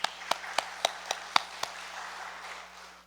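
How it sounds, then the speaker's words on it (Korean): Inside a church service, about seven evenly spaced hand claps ring out faintly over a low electrical hum, then fade into quiet room tone. "우리 서로 감사하고 축복하는 마음으로 우리 같이 한번 박수하면 좋겠습니다"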